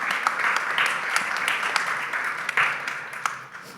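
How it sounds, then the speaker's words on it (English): Audience at an open house art talk clapping, a dense patter of many hands filling the room at moderate distance, steady for a few seconds before tapering off. "You guys don't have to clap because I'll never get through this."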